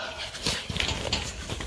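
A terrier whimpers and pants while ratting, giving short, close, breathy whines and yips in uneven bursts over a rough outdoor background.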